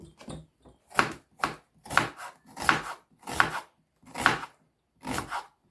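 A knife chops through an onion in a series of eight or so crisp, evenly spaced strikes on a board, close and loud with silence between cuts and no talking.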